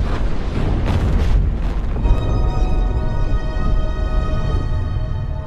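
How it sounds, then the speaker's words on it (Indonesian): A massive explosion from the sci-fi film Invasion Planet Earth, a loud sustained roaring blast with deep rumbling low end and crackling debris, continuing for several seconds with a tonal ringing layer emerging as it rolls on. "komunikasi mereka pun akhirnya terputus setelah ledakan besar menyebar ke tempat Mandy berada"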